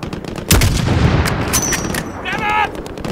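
Dense gunfire from a battle on a highway in Call of Duty Modern Warfare 3 rattles continuously in loud, close bursts with heavy booms, while brief game voices break through the barrage.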